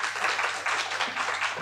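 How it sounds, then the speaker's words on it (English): Conference audience applauding after a presentation: a steady, dense wash of many hands clapping throughout, fairly even in level with no voices standing out. "Another round of applause."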